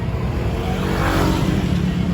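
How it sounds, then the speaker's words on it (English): Busy street traffic on Buakaw Road in Pattaya, with a continuous wash of engines from passing cars and motorbikes, one vehicle swelling louder near the middle as it goes by, fairly close and with no talk. "I'm dodging traffic on Buakaw Road, trying to get across the street."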